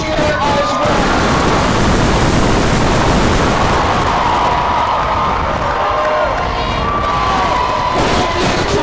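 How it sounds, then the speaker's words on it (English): A large commencement crowd of graduates cheers and applauds for their families and supporters, a loud, dense, sustained roar with scattered whoops and shouts that stays steady throughout. "Please turn to all those who supported you and give them a cheer as well"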